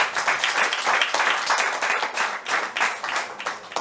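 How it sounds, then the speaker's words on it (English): A crowd at a talk claps in a full, continuous round of applause, swelling and dipping slightly in waves, with no speech over it. "Please, family, can we get a round of applause?"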